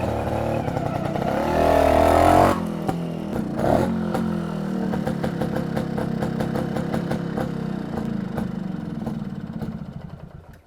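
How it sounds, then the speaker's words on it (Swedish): A Swedish-made DKV Diamant motorized bicycle engine runs at close range, a loud burst of revving easing into a steady, rapidly pulsing idle that slowly fades. "Det är en motoriserad cykel kan man säga."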